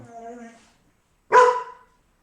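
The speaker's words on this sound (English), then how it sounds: "You got barks." A single loud, close dog bark cuts in after a stretch of a person speaking, then silence follows.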